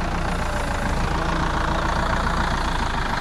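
A tractor engine idling in an orchard: a steady, close diesel-like drone with a low throbbing pulse, constant and unbroken for the whole stretch, with no talk.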